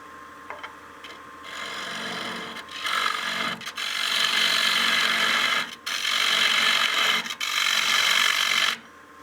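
Wood bowl being turned on a lathe with Easy Wood Tools, a steady rasping, scraping cut that rises and drops as the tool engages, with short gaps where contact breaks.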